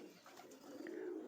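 Patta pigeons, Andhra and Pakistani breeds in a loft, coo softly and continuously close by, with soft overlapping low calls.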